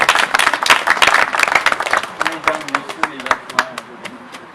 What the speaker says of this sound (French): Je voudrais que vous vous applaudissiez maintenant